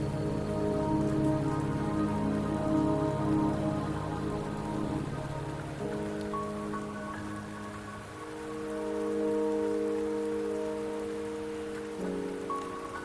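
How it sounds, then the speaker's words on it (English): Steady rain falls in the Wuthering Waves video game, a continuous hiss of drops on surfaces under sustained tonal game music, holding at an even level throughout. "Don't worry, the rain won't last much longer."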